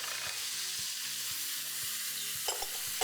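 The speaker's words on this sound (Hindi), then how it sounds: "थोड़ा सा चिकन सौते करके" Chicken sautéing in a pan, a quiet, steady sizzle close by, with soft stirring taps at intervals and a louder clatter of stirring near the end.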